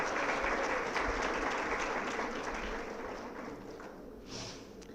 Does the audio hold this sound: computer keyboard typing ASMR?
no